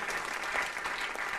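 A crowd applauds with dense, steady clapping throughout, at a moderate distance.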